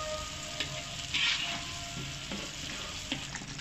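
Masala sizzles steadily in a pan while being stirred, a constant close frying hiss with faint scraping strokes and a brief brighter spatter partway through.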